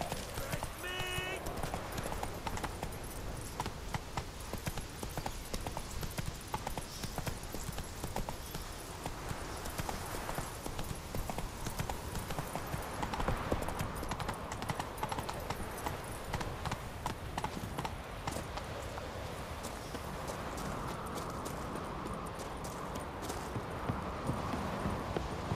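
A horse gallops in The Witcher 3, its steady rapid hoofbeats drumming throughout at moderate level beneath a faint ambient wash, with a brief whinny near the start.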